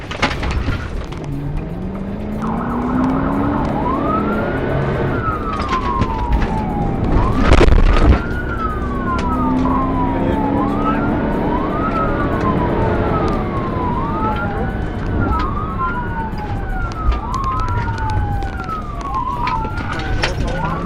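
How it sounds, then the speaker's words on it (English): A police motorcycle siren wails steadily in rising and falling sweeps during a chase, riding over constant road and engine noise with a sharp bang midway. "As the officer switched on his lights and siren"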